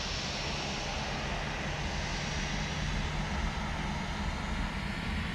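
The engines of an FSLabs A321 airliner in Microsoft Flight Simulator 2024, heard from outside the aircraft at the gate in Winnipeg, give a loud, steady roar with a high whine and a low rumble, unbroken throughout with no voices.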